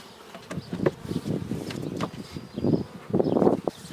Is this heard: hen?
no